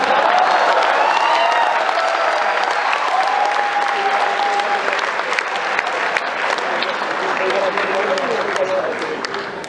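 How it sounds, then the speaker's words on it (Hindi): Sustained audience applause fills a live comedy show at IIT Bombay during Mood Indigo, a dense steady wash of many hands clapping with crowd voices and occasional cheers running through it. "जब आनंद आ रहा था तो ताली बजाया था?"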